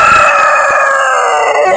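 A rooster crows loudly and close at a Sunday bird and animal market in Hyderabad, one long drawn-out crow filling the whole moment.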